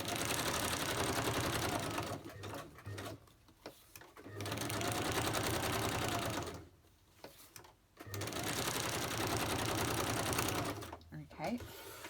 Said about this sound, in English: I might do straight stitch because it's getting low.